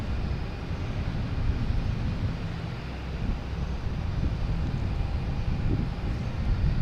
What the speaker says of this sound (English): next to take off will be a JetBlue E190 heading to Buffalo